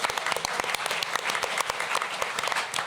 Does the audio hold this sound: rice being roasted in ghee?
no